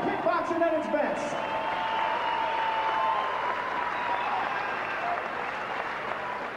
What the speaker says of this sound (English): let's give both of these fighters a big round of applause for Muay Thai kickboxing at its best